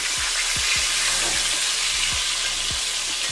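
Fish and shrimp deep frying in hot oil give a steady, dense sizzle that holds without a break, with faint low knocks spaced through it and no talking.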